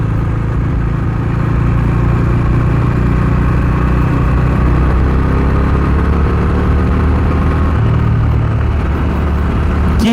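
A Bajaj Dominar 250 motorcycle is ridden with a loud, steady, low engine drone and heavy wind rumble, the pitch holding nearly constant throughout and no voices audible.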